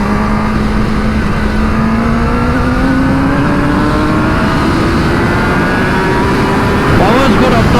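A 2021 Kawasaki ZX10R sport motorcycle held in first gear drones loudly with a rising engine tone, steady and close throughout, with speech over the top.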